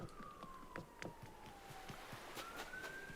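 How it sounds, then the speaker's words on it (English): A siren wails in the distance, its pitch sliding slowly down then jumping back up, faint behind scattered clicks and background noise. "Wow, those sirens are really loud."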